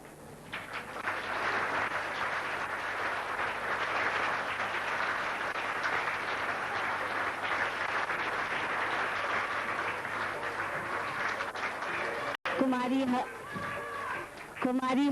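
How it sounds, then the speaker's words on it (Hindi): A seated audience claps steadily and fairly loudly for about twelve seconds to welcome two women onto the stage at a dedication ceremony, then a voice begins speaking over the fading room tone. "जैसे ये पहुंचेंगी हम सब ताली बजाकर उनका स्वागत करेंगे"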